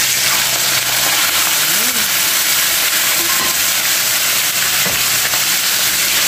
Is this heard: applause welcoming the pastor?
no